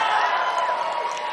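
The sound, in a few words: live event crowd cheering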